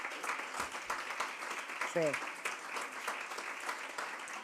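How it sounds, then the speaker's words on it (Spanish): Applause from an audience at a book presentation, a continuous soft wash of clapping, fairly distant and faint, with a brief voice sound partway through. "les pido un aplauso para Susana"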